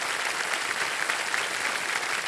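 A studio audience on a television quiz show claps in steady, dense applause that holds at an even level from start to finish, with no voices over it.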